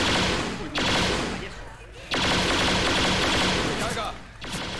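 Pistols fire in Left 4 Dead 2 during the Dark Carnival roller coaster chapter, with rapid, loud volleys coming in long sustained bursts separated by brief pauses.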